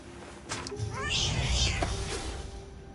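A cat meows in the video game What Remains of Edith Finch, a rising, drawn-out cry mixed with other game sounds and partly overlapped by voice.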